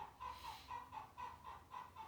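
A chicken clucks in a steady string of about nine evenly spaced clucks, moderately close, over a soft background hiss, with no talk.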